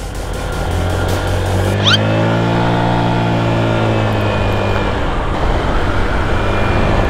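A Honda Click 150i scooter engine drones loud and close while riding off-road on a muddy track, its pitch rising and falling with the throttle, alongside wind rush and no talk.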